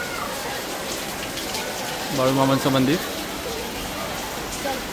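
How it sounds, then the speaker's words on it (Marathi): Rain falls steadily with a constant hiss of drops on surfaces and muddy ground during the yatra at Balumama Temple, Adamapur, Kolhapur, while a voice speaks briefly in the middle. "आता पाऊस अजूनही पडतोय"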